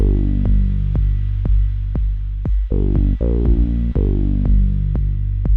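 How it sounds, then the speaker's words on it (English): A simple electronic beat: a steady kick drum thumping at a regular pace over a sustained, deep bass line, with no voices. "basically I have a super simple kick and bass line"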